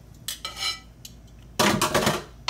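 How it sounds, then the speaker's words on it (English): Green beans served into a bowl, with metal utensils clinking and scraping against dishware in a few short bursts, then a longer stretch of rattling near the end. "We're gonna plate these up here"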